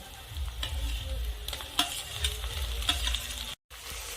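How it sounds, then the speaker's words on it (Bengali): Chopped tomato hits frying onions in a pan, raising a steady close sizzle with scraping stirs and a few sharp clicks, cut by a brief silent gap near the end; no one speaks. "এখন আমি কুচিয়ে রাখা টমেটো দিয়ে দেব।"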